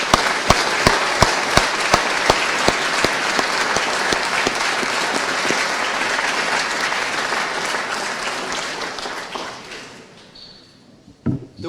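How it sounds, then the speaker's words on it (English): Applause for parents at a school graduation ceremony, a large hall of clapping with crisp nearby claps at the start, then a broad sustained wash that gradually fades out, ending with a couple of thumps. "Let us give all parents a big round of applause for what they have done."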